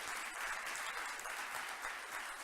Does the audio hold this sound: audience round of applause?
yes